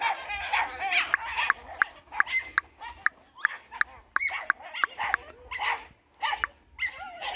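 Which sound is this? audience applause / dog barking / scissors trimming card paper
dog barking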